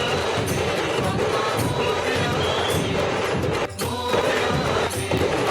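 A dense crowd of devotees at a Ganpati immersion procession in Pune, a steady loud roar of many voices and street noise with no single voice standing out.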